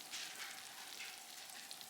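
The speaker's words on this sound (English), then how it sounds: "my loaded baked potato casserole is done. It's sizzling away." Soft, steady sizzling of a hot baked potato casserole, faint crackles and pops without any talking.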